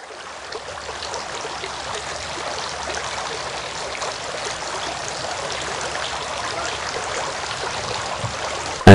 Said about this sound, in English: Washing the feet.